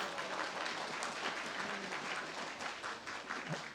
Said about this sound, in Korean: 위원장님을 큰 박수로 맞아주시기 바랍니다.